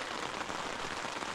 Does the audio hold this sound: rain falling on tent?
yes